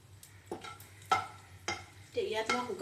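Cardamom pods hitting hot oil in a pan, with soft sizzling and several sharp stirring clatters of a utensil against the vessel, close and fairly quiet.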